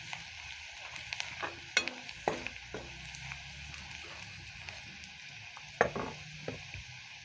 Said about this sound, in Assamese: এতিয়া পাচলিখিনি দিলোঁ